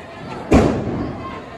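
A single sharp bang of a firecracker at a Diwali celebration bursts out loud and close, followed by a lingering rumble and background noise.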